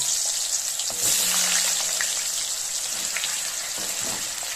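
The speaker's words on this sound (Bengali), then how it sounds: "এবার এই কড়াইয়ের তেলেতে আমি আলুগুলোকে লাল করে ভেজে নেব" Steady, loud sizzling of potatoes frying in hot oil in a wok, with a crackling hiss throughout and an occasional clink of a utensil against the pan.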